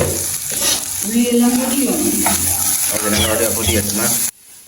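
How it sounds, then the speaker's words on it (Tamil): Onions sauté in a pan in a home kitchen with a steady close sizzle and occasional stirring scrapes. A voice talks over the frying before the sound cuts off abruptly. "இப்போ வந்துட்டு வெங்காயம் நல்லா வதங்கி கொண்டு வந்துட்டு"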